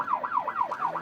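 Police car siren wailing in a rapid repeating rise-and-fall sweep, loud and steady, as an officer responds code 3 with lights and sirens to a shooting call in Modesto on a busy Saturday night.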